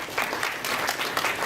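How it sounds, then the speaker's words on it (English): An audience at a string theory physics lecture claps steadily for the speakers, a dense patter of many hands applauding without pause. "let's clap for speakers"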